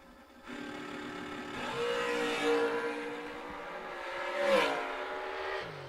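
A race car makes a drag racing run at the Moser Engineering Great American Dream Team Challenge, its engine heard from a distance as it roars up through several stepped gear changes, swelling and fading.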